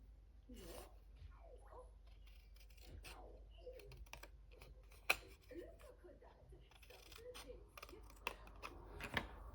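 Scissors snipping through paper while making a festive pop-up card, a series of quiet close crisp cuts and rustles at low level with scattered handling clicks.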